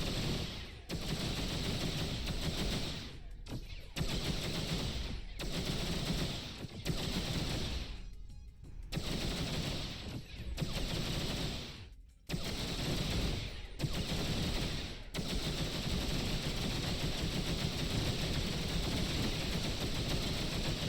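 Ship weapons in the X3 Farnham's Legacy space game fire continuously in long, loud sustained bursts, broken only by a few brief pauses.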